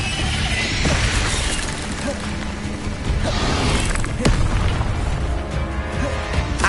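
Incendio fire spells cast in Hogwarts Legacy gameplay: dense whooshing bursts and booming fiery impacts amid busy game ambience, with sharp crackling pops standing out and a voice calling out over the effects.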